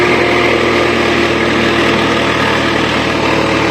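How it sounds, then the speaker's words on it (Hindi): A tractor, an 855, runs at full RPM to power a machine mixing mud for bricks, giving a loud, steady, unbroken engine drone that holds constant throughout with no pauses or speech. "ये फुल आरपीएम के ऊपर चल रहा है ट्रैक्टर, क्योंकि जोर बहुत आता है दोस्तों"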